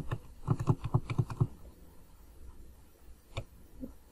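Computer keys are pressed in a quick run of about six taps, then a single later tap, as delete and backspace are used while editing in MS Excel; clicks are fairly close and alone.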